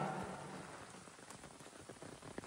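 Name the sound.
heavy rain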